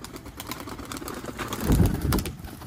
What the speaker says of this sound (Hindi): ये मैरो वाला इमामदीन कबूतर है